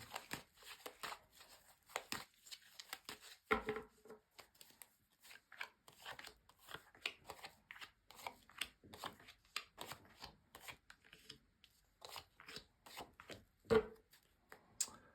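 Tarot cards are shuffled by hand in quiet, soft riffling and tapping bursts spread over several seconds, with occasional sharper card snaps and no talking.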